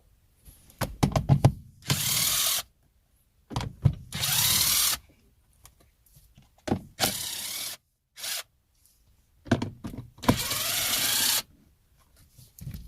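A power driver removes four 10 mm fasteners from the shifter of a 2003 Infiniti G35, giving repeated short bursts of close, loud whirring separated by pauses, with clicking and rattling of the tool and the loose fasteners in between.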